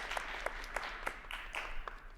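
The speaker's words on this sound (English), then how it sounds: "So if we can get a round of applause for them." Sparse, faint clapping from a small audience at a financial literacy session, about seven distinct claps spaced at a steady rhythm over a low hum.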